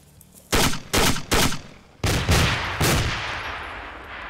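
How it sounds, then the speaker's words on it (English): Explosions from 40mm grenades and gunfire in the video game Arma 2: five loud, sharp blasts, three close together and two more spaced apart, the later ones trailing into long rumbling decays with no talk. "something with 40mm grenades. They're pretty interesting as well."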